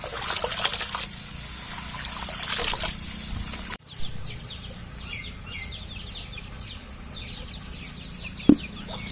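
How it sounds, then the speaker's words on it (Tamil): Water sloshes and trickles as ration rice is washed by hand in a bowl, with a sharp knock near the end and faint clucking chickens in the background. "நல்லா தண்ணி ஊற்றி நல்லா கலைஞ்சிக்கணும்"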